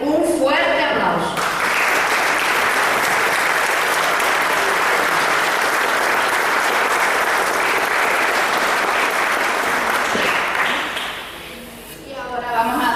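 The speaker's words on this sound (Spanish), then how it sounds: "pido para Guillermo, Andrea, Margarita, Antonio, Rafael, Luis y Teresita un fuerte aplauso" A strong, dense ovation from the audience at a 26th of July celebration in Jinámar, Telde, sustained loudly for about ten seconds before tapering off, with a voice speaking briefly at the start and end.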